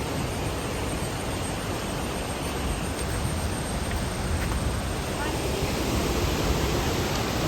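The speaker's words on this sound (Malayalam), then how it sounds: "മാർമല അരുവി." The Marmala waterfall stream at Vagamon gives off a constant, dense rushing roar of falling and flowing water, loud and close, steady from start to end.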